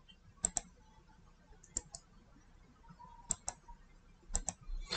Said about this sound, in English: right click there and click on unpin from taskbar